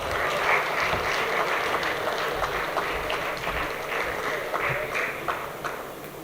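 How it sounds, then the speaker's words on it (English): A dense, steady round of applause from an audience at an Indian paint-industry business event, with a prize of silver coins being handed out. It holds at an even level for about six seconds, with a few voices mixed in. "Can we have a huge round of applause?"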